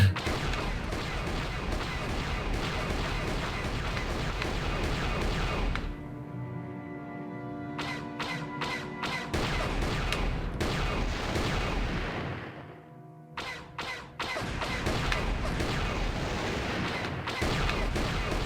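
Blaster gunfire from Star Wars: Knights of the Old Republic, loud bursts of shots with short gaps of quieter ambience between volleys, up close and without talk.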